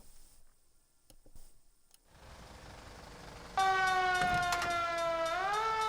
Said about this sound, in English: Hold the siren on it.